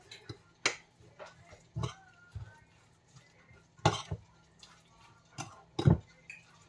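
A spoon scraping and knocking against a bowl while stirring a grated cassava mixture for suman, irregular soft clinks and taps at close range with quiet pauses between them.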